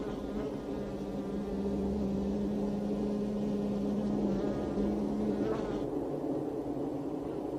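Honey bees return to the hive entrance, where guard bees check them, producing a continuous buzzing drone of many wings close by that holds steady throughout with slight shifts in pitch.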